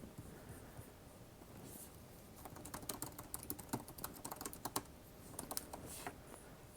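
Someone types a Google search on a computer keyboard, a quiet, close run of quick uneven keystrokes that speeds into a dense burst and then tapers off.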